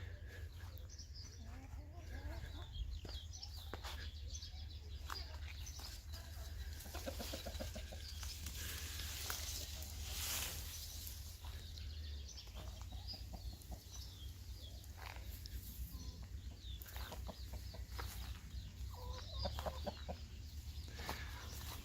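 Chickens cluck and murmur softly in the distance over a constant low hum, with scattered bird calls throughout.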